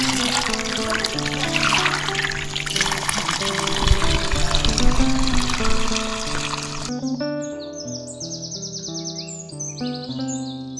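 Spring water flowing up from underground runs as a steady rushing wash for about seven seconds, then drops away. Birds chirp around it, and soft tonal background music plays throughout.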